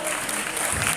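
An audience at an Islamic Ramadan study session in an Indonesian pesantren bursts into applause for a student named Ridho, a dense, full burst of crowd clapping lasting about a second.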